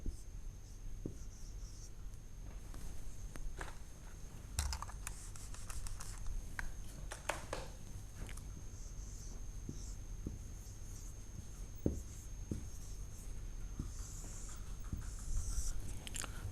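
Pen strokes scratch across paper during an 8th-class maths lesson: continuous close, dry scribbling in short bursts over a steady low room hum.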